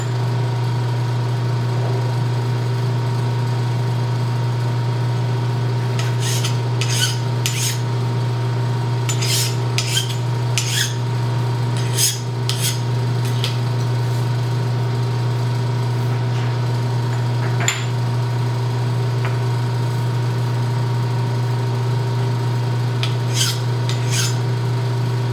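Hand filing to deburr square metal stock while preparing parts for a Hardinge 22J collet rack, heard as short bursts of close rasping strokes over a steady machine-shop hum.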